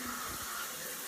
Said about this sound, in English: So, I'm in the shower.